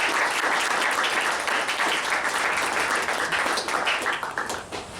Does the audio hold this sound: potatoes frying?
no